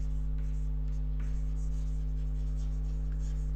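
Chalk or marker scratches and taps in short strokes across a board in a classroom, faint over a steady electrical hum, with no talking.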